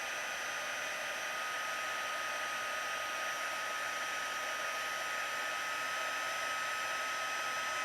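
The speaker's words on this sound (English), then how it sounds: "I'm going to bring in my heat tool, and then I'm going to heat this up" A heat tool blows a steady, high-pitched whooshing hiss like a hair dryer on its highest setting while melting embossing powder on a birthday card, constant and fairly quiet throughout, with no speech.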